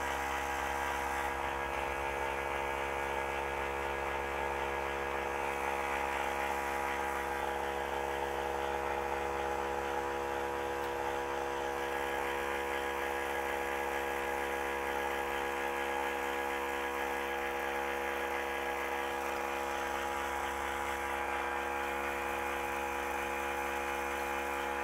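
A vacuum pump runs during filtration in lake pigment making, a steady mechanical whir with a low electric hum, continuous and even throughout, with no voices.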